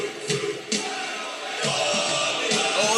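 A Toon Army football crowd chants at St James's Park, a broad, roaring mass of voices that swells and dips in rhythmic waves, heard from a distance and filling the whole space.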